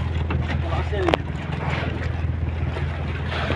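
A fishing boat turns at sea, heard as a steady low engine drone beneath wind buffeting and wave wash, with people talking aboard over it.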